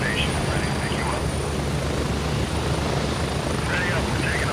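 Helicopter in the military shooter Gray Zone Warfare, a loud, close rotor drone with a steady low thump and whining engine tone, continuous throughout, with faint radio-style chatter rising briefly over it.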